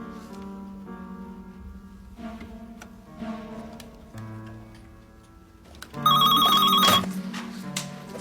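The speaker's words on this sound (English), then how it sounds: "That's my phone. I better get it." A telephone rings loudly for about a second near the end, following quieter ticking and tones, with no talking.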